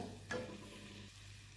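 Dried fish and spices such as salt, chili powder and coriander powder stirring in hot oil in a pan, with a short scrape of the spoon followed by a steady low sizzle, close and alone.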